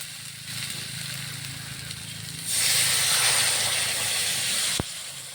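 Water hits a hot pan of egg curry with fried potatoes, turmeric and salt, setting off a loud, steady steam hiss that swells halfway through and then cuts off abruptly.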